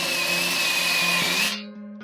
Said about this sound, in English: taking a step bit and then drilling out my holes a little bit bigger